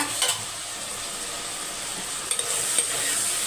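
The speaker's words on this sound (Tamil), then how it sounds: "நல்லா வதக்கிக்கோங்க" Vegetables for sambar sizzle in a hot pan while being sautéed and stirred, a soft continuous frying hiss with a few light scraping strokes, close and fairly quiet with no talk.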